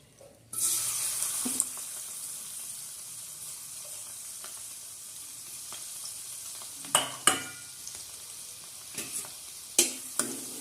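Garlic dropped into hot oil for a Bangda fish curry sizzles steadily and evenly, with a few sharp clinks and scrapes of a stirring ladle against the pan.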